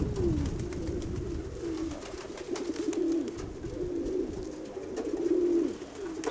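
Domestic pigeons coo in courtship, a male cooing to another pigeon's mate, with repeated low rolling coos in a steady rhythm, close by, over faint background hum and no talk.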